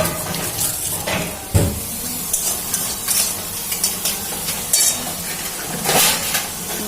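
Onions frying and being stirred in a pan, with a steady sizzle and repeated scraping and clinking of the spoon against the pan, close and fairly loud, no talking.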